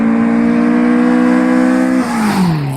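A Volvo B230 Redblock four-cylinder engine, as fitted to the 240, 740 and 940, holds a loud, steady high rev alone and then drops in pitch as the revs fall away near the end.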